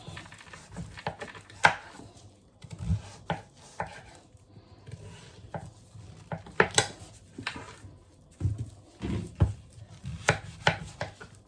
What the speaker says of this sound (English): So now I'm going to cut my pumpkin up in pieces.